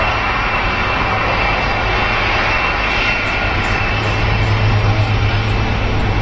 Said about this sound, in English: Got a 747 for you right now.